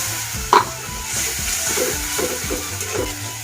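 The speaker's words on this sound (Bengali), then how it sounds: "মশলাটা একটু কষিয়ে নেবেন, আদা রসুন জিরাটা" Ginger-garlic paste and cumin fry in a pan for a duck curry, giving a steady soft sizzle with scattered stirring scrapes and one sharp clink near the start. No one speaks.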